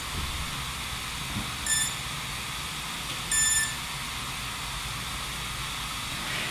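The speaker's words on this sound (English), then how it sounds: "now it always takes a while with beeping during the startup" A GDU O2 drone powering up gives two short electronic beeps spaced about a second and a half apart over a steady background hiss, with no talking.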